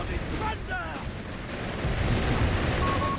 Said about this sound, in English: the Germans find their mine being set off by the Italian artillery